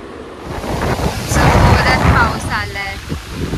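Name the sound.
heavy rain with wind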